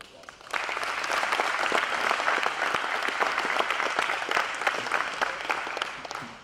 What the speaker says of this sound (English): So let's give these guys another round of applause.